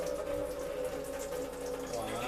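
Steady stream of filtered water running from a tap or filter into a 1-cup measuring cup, a continuous soft rushing pour under low background hum.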